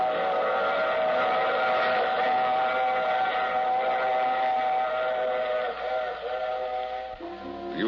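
A train rumbles along steadily while a loud, sustained whistle sounds over it throughout, the tone bending and breaking up briefly toward the end, staged as a radio drama sound effect.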